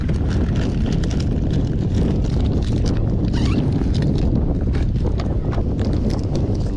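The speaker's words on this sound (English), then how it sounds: "Wind blowing really nice into this side of the island that we're fishing right now." Wind blows steadily against the microphone on an island shore during a fishing tournament, a loud, unbroken rumbling roar with gusty texture throughout and no voices.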